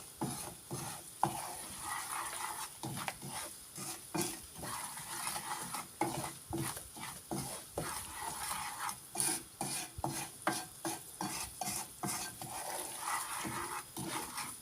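Ingredients for mıhlama being stirred and sautéed in a pan, steady sizzling with repeated scraping strokes of a utensil, close and continuous.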